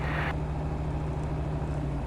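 A light aircraft engine drones at steady revs as the propeller lever is pulled back, a brighter upper tone cutting off early and leaving a lower, constant hum with no voices.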